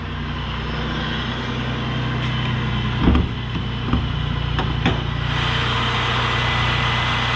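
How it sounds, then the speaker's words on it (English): A supercharged 3800 L67 V6 in a 2004 Impala SS idles steadily with the hood open, a smooth, even low hum with a few faint clicks and taps on top. "Let's go ahead and pop the hood though, so you guys can listen to that supercharged 3800."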